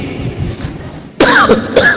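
In a mosque during a religious talk, after a quiet stretch with faint murmuring, a single abrupt harsh cough bursts out close by, followed by another short rasp.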